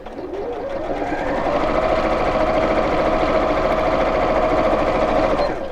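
A sewing machine runs a steady, continuous seam along the edge of a pot holder, starting up with a slight ramp and then holding an even mechanical whir for several seconds before stopping.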